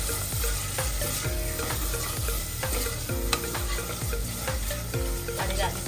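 Tomatoes sauté in a clay pot for a Sri Lankan fish curry, a close, continuous sizzle broken by repeated rhythmic scraping and clinking of a spoon stirring against the pot, with no talking.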